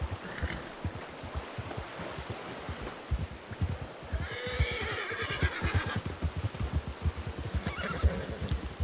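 A horse in Red Dead Redemption 2 on a WildRP server whinnies loudly midway, with hooves clip-clopping steadily throughout and a further brief neigh near the end, close and prominent.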